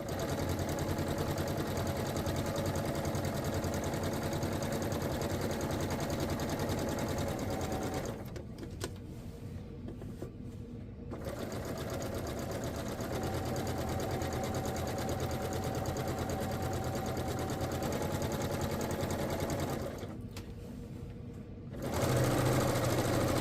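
A sewing machine runs steadily, stitching a 5/8 inch seam along a dress front, a close, even mechanical whir that stops briefly twice and then starts again, with no voices.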